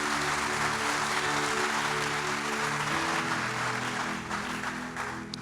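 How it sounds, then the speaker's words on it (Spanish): Steady applause from a church congregation, a broad wash of clapping at moderate volume that continues evenly for several seconds, with low sustained organ or keyboard tones beneath. "Dale un buen aplauso al Espíritu Santo"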